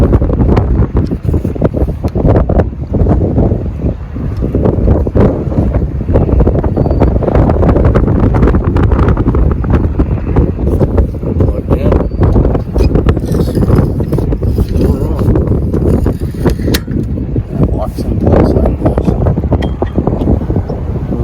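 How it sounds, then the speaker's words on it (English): Strong wind gusts on a hilltop buffet the microphone in loud, rumbling waves with no break, near and constant throughout. "See if I can get any wind here."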